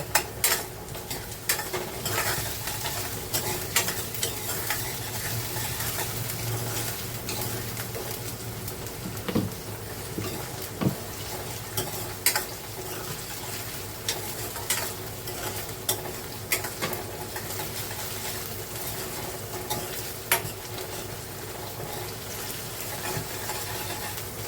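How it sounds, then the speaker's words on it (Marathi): Chopped onion with garlic paste sizzles steadily in a pan, with repeated scraping stirs and small clinks of a utensil throughout; no voices. "थोडासा मस्त कांदा शिजलाय."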